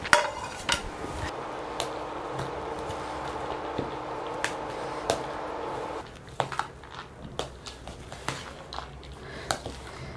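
Banana stem kosambari salad with asafoetida and mustard seeds tossed in a bowl: a soft, steady stirring hiss broken by irregular spoon clinks and taps against the dish.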